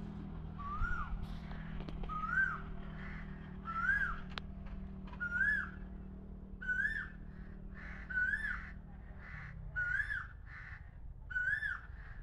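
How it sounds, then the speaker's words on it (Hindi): Asian koel calling repeatedly from a distance, a series of about nine rising whistled notes spaced a second or so apart, over a steady low background rumble and other faint bird sounds. "कोयल भी बोलेगी अभी।"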